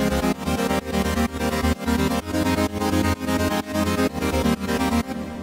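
A bright EDM synthesizer chord pitched down one octave plays a steady pulsing pattern of about a dozen loud, evenly spaced hits over a sustained low end, alone with no voices.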